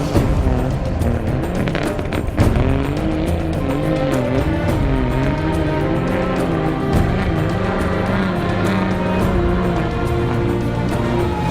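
Off-road trucks racing through mud at Murchison Off-Road Adventure Park in Western Australia, engines revving hard and wavering in pitch, with tyres squealing and skidding, loud and close throughout.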